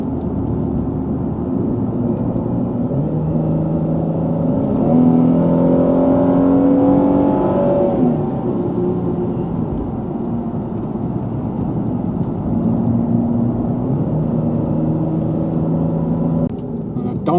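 A Jaguar X-Type V6 engine pulls steadily up a mountain road in the French Alps, a continuous close, muffled drone inside the car with shifting tone as revs rise and fall, no talk.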